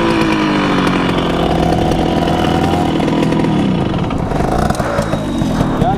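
A vehicle exhaust roars very loud and close after its muffler has come loose, a rough, raspy drone that holds steady throughout with no talking.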